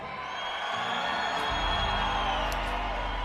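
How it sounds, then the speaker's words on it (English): Crowd at a boxing event near the border in Calexico, California, reacting as boxer Ramiro Jimenez from Mexicali is introduced: a steady wash of cheers and whoops under a sustained roar, swelling louder midway and staying dense to the end. "You can hear the reaction from the crowd."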